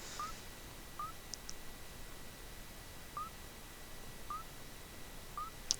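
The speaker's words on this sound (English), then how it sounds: "You can hear my little bird in the background." A small pet bird chirps in the background of a quiet room, giving short, faint single chirps spaced a second or more apart, with a couple of higher, brighter calls mixed in.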